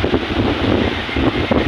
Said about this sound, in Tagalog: Yan, at lakas ng hangin.